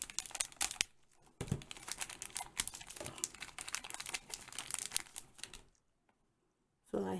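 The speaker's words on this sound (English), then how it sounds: "So, go ahead and open up this one." A Shopkins Season 1 blind pack wrapper is torn open up close, with a flurry of crinkling and ripping plastic in quick bursts that stops into near silence before one final crackle.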